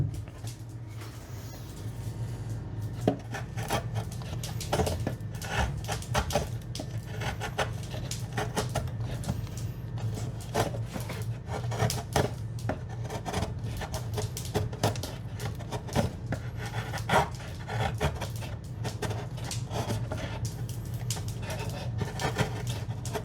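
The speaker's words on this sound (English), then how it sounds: "I'm just going to trim some of this excess wood" Hand tool trimming excess wood on a J-Class yacht keel under construction, giving a steady run of close, crisp scraping and chipping strokes with a low hum beneath throughout.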